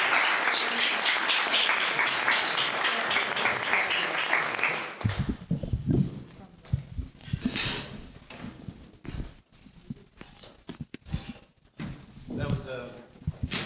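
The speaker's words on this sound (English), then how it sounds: "more round of applause for Michael" Audience applause following a talk titled "Region": dense clapping fills the first five seconds, then thins into scattered claps and rustling as a speaker begins talking.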